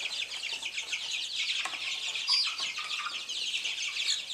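Backyard flock with a speckled Sussex hen near the water, soft clucks and short calls from the chickens mixed with busy chirping birds, steady and fairly close, with no talking.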